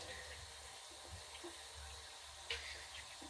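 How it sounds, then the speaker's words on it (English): A shaving brush rinsed under hot tap water gives a faint, steady trickle of running water with a soft splash partway through, quiet and close. "I'm washing the brush in hot water, not very hot, but pretty hot, like a hot shower hot"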